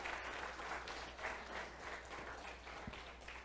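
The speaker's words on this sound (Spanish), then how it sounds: "Un aplauso para Hipólito y para Lidia." A church congregation bursts into sustained, dense applause for a long-married couple, a broad wash of clapping hands throughout with a brief murmur of voices beneath.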